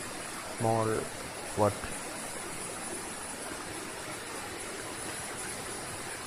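Orappenkettu waterfall in Kerala flows in a steady, soft hiss of rushing water, with two brief voices near the start before the rush carries on alone.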